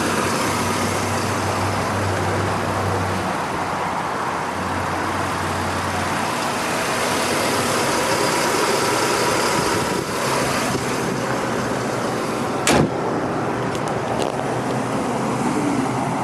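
A 2009 Mercedes-Benz C300 Sport's 3-liter V6 idling with a steady, continuous hum at an even level throughout, broken only by a brief click near the end.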